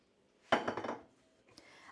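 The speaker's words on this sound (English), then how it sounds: "I'm going to put the lid back on" A metal pot lid clatters onto a pot of boiling salted pasta water, a close, loud rattling clank that rings briefly and fades, followed by a smaller clink.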